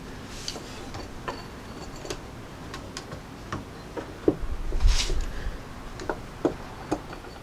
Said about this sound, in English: Feed in our bolts and thread it up into place.